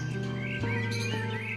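Small birds chirp in a cartoon palace garden, light tweets scattered over a busy, continuous musical background.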